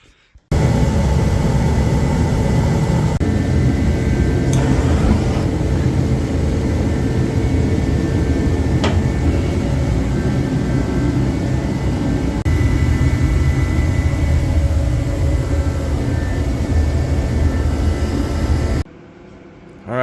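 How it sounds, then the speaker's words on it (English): A bullet heater fired up in an oil burner to warm a workshop, a loud steady roaring blast that starts abruptly and holds constant for the length of the clip before cutting back. "get this bullet heater fired up in my oil burner"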